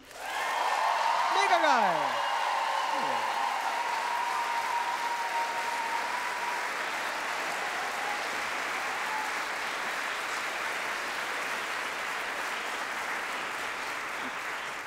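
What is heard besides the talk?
audience applause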